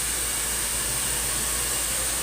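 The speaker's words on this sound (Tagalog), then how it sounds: "Hintayin lang natin matapos yung blower." A hair blow dryer runs steadily on curly, kinky hair during a rebonding treatment, giving a loud, even whooshing roar that continues unbroken throughout with no one talking.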